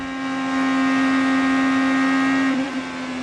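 Onboard engine of an IndyCar race car at the Indy 500, a loud, steady high-pitched drone that holds one pitch for about two and a half seconds, then wavers and dips briefly as the car twitches loose before settling again.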